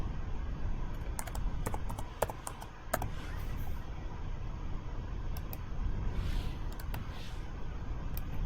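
Typing on a computer keyboard while entering a name as text in AutoCAD, a run of light, irregular key clicks over a steady background hiss, with a few louder taps.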